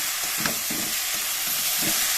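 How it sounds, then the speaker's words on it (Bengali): Bitter gourd and potato frying in a pan while being stirred, a loud close sizzle with rhythmic scraping strokes of a spatula repeating every half second or so. "এটা একটু ভালো করে ভেজে 1 মিনিটের মতো ভাজবেন"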